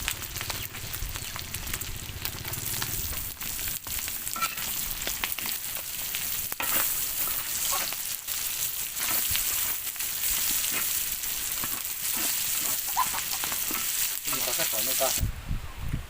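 Pork innards frying in rendered fat before onion and garlic go in, a dense continuous sizzle with intermittent stirring clatter, steady and close for the whole stretch.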